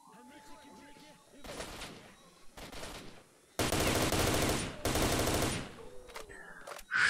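Automatic weapon fire in S.T.A.L.K.E.R. Shadow of Chernobyl during a fight with bandits: several loud, dense bursts of rapid shots, the longest two back to back near the end, with quieter shots earlier and no talking over them.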